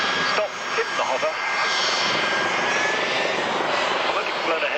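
Helicopter holding a hover at the 1995 Woodford Airshow, a loud, steady turbine and rotor roar without letup, with a commentator talking over it.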